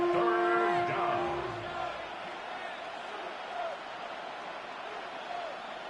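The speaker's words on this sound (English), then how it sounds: "This crowd into it now as we get to 3rd down" A stadium crowd roars in the Madden 26 football video game before a third-down play, a loud broad swell of cheering and yelling that fades to a sustained crowd murmur.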